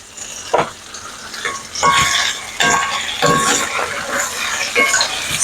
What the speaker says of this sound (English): Searing the meat.